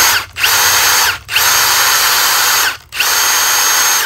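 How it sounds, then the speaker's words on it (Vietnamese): A Milwaukee M18 cordless impact driver on a 5.0 battery revs in three loud, close bursts of high whirring, each cut by a brief pause, with no talking. "Đây là cây bắn vít Milwaukee."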